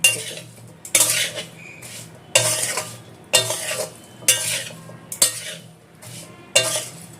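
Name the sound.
mixing raw mango pickle with spices and oil in a wok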